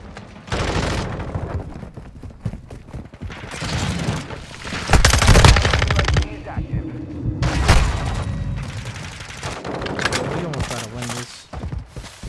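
Rapid-fire bursts from an FSS Hurricane submachine gun in the game Modern Warfare II crackle in repeated loud volleys with booming impacts and mechanical clatter between them.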